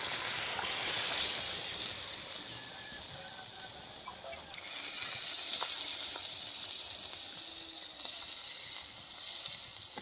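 Water poured into frying duck curry with potatoes in a village kitchen sets off a loud bright sizzle and hiss that swells, eases, then surges again as more hits the hot pan.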